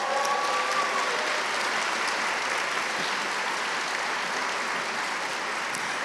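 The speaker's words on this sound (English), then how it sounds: "Let's give them another round of applause." A large audience applauding student musicians after a high school all-county symphonic band concert, dense sustained clapping that fills the hall evenly for six seconds, with a brief voice fading out at the start.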